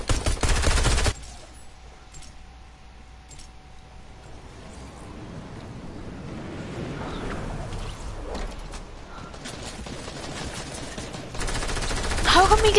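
Video game gunfire with a shotgun, loud rapid bursts at the start and again at the end, with quieter scattered shots and clatter in between.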